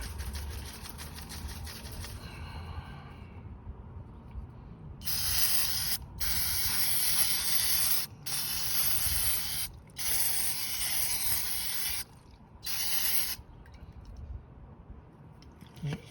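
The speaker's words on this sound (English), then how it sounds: "So now we're just gonna go back to using some of that carb cleaner." Carb cleaner hisses from an aerosol can onto the throttle valve of a 2015 Honda Fit, coming in several sharp bursts of about one to two seconds each, with short gaps between them and nobody speaking.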